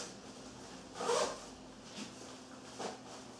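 Zipper on a USMC improved bivy cover being drawn open, a few short quiet zipping strokes, the longest near the start, then two briefer pulls, with no talk.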